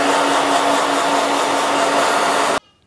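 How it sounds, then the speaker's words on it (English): A hair dryer blows steadily on wet, freshly dyed red and brown hair, a loud close whooshing drone with a constant motor hum that cuts off abruptly near the end. "let me see if we can dry it a little bit more."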